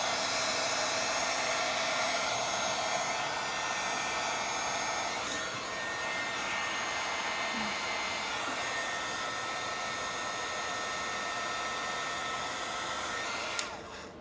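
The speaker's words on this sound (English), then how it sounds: "the heat tool gets a lot hotter than the 300-degree oven or whatever" A heat tool blows hot air onto a white waterslide decal, a steady, fairly quiet whooshing hiss that continues evenly throughout with no talking.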